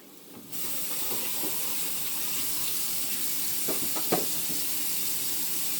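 Diced carrots and green onions cooking in a pan for fried rice, making a steady, moderately loud hiss that starts abruptly and holds evenly, with a few faint clicks along the way.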